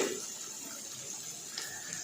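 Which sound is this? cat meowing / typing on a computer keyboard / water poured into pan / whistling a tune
water poured into pan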